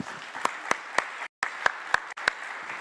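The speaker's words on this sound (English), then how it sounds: "I want to give them a round of applause again, please." Sparse applause from a small audience at a foreign ministers' breakfast meeting during a BRICS summit, a handful of distinct claps standing out over a soft room background, with a brief silent gap partway through.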